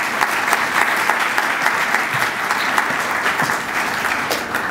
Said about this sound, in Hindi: ये दोनों पास हुए हैं, इनके लिए तालियां बजाएं।